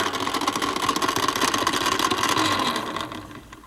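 A Columbia Disc graphophone, an early front-mount model AH, runs a little too fast with a steady mechanical hum and a close, continuous whir that fades slightly near the end. No one speaks.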